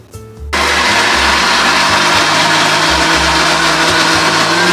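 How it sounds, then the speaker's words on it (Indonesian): A blender grinding spices without water whirs up after a brief lower start, then grinds steadily and loudly at close range without pause. "Terus kita blender tanpa air ya."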